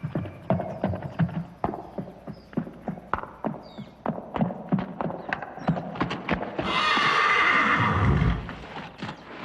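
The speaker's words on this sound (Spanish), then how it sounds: "El huasteco se llamaba el último caballo que tuvo el doctor en Papantla" A horse whinnies loudly over a steady, close clip-clop of hooves walking on a hard surface in the town of Papantla, Veracruz, with a longer neigh rising near the end.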